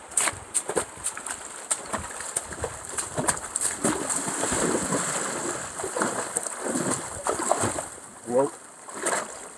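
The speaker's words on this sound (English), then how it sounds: "Coming across the river here." A trail runner wades across a river in the Sahyadri hills near Bhimashankar, producing irregular sharp splashes and sloshing steps close by, with a brief spoken word amid the water sounds.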